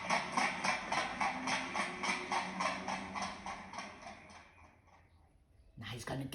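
Horse trotting with a steady, even clip-clop of hooves, moderately close, that slows and fades before a brief louder sound at the end.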